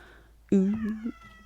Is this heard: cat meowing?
yes